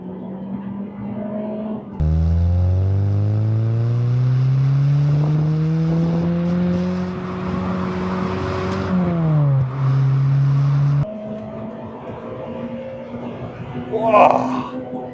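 A Honda Civic Type R EP3 JDM engine revs hard through the gears with VTEC, the pitch climbing steadily and loudly for about nine seconds before easing off, with a shift dip and a short voice near the end.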